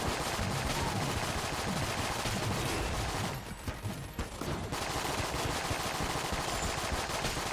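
Steady rapid gunfire from Enter the Gungeon, dense and continuous, with a short gap in the middle before the shooting resumes at full level.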